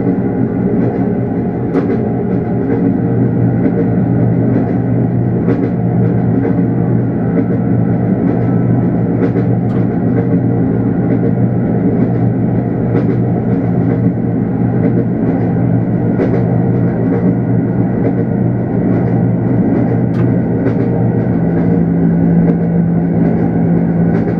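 Inside a Norfolk Southern locomotive simulator in an exhibit car, a steady, loud train rumble drones on without a break, with faint rail clicks scattered through it.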